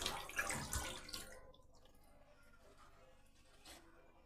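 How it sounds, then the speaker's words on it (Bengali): Jute leaves are washed by hand under running water, with a louder splashing rush at first that settles into a faint, steady trickle with light drips. "এভাবে জল দিয়ে খুব ভালোভাবে পাট শাকগুলোকে ধুয়ে দেবেন।"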